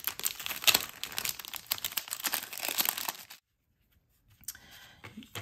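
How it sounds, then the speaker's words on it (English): Packaging of a miniature Disneyland Main Street shop DIY kit holding precut wood and wallpapers is opened, with close crinkling and rustling, a short pause, then softer handling. "Let's go ahead and open up our kit."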